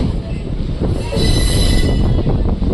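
A train rolls past at a railway crossing, a heavy rumble with metallic wheel squeal that swells and grows louder toward the end, close by, with no talking.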